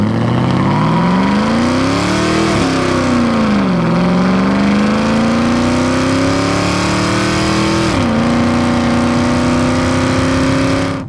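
A modified 1999 Ford Lightning pickup with a supercharged 5.4 engine and an aftermarket exhaust accelerates hard, a loud, close, continuous engine roar that rises through several gear shifts, with no talk.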